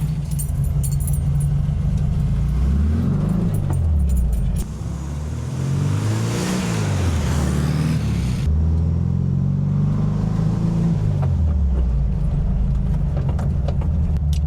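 A 1968 VW Fastback being driven on the street after tuning, its air-cooled engine humming steadily with rising and falling revs through repeated gear changes. The engine stays close and loud, with some rattling and road rumble, and no talking.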